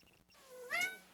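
A pet cat named Chips gives a single rising, drawn-out meow at close range, swelling to its loudest near the end, in an otherwise quiet room.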